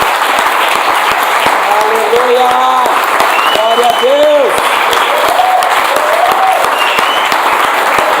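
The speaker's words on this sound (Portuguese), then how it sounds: "Dá uma salva de palmas bem forte, mas bem forte para o Senhor." Church congregation clapping loudly and steadily throughout, a dense sustained applause with voices calling out praise over it.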